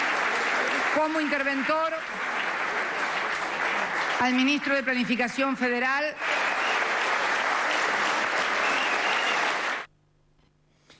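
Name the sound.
crowd applauding a speech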